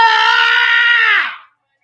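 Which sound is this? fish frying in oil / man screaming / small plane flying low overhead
man screaming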